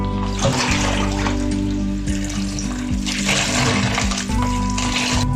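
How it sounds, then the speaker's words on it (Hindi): Lentils are rinsed in water, with steady sloshing and splashing that runs the whole time over a low, constant background hum. "अब इसको हम धो लेते हैं।"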